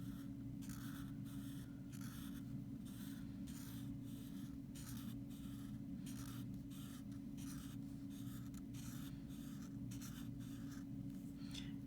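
A Sharpie marker scratches out wave lines on a workbook page, a steady series of short rhythmic squeaky strokes close up over a constant low hum, with no talking.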